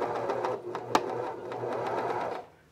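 A cover stitch machine sews a binding with a binding attachment, giving a close, steady mechanical whir with a few sharp clicks before it stops abruptly near the end.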